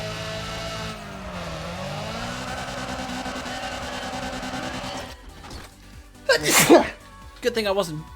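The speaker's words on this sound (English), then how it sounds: "Good thing I managed to pause the game before I sneezed." A single sharp sneeze bursts out over the steady drone of a racing game, followed by a quieter second burst and brief vocal sounds.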